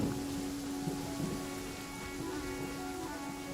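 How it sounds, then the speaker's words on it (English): Steady rain falls in the video game Genshin Impact, a constant close hiss of drops with a low tonal hum running underneath, continuing evenly with no breaks. "it's raining again"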